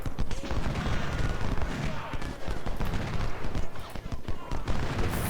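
Dense musket and cannon fire of a Civil War battle in the Ultimate General: Civil War game, second Battle of Bull Run, crackling steadily and continuously throughout with rapid overlapping shots and low booms.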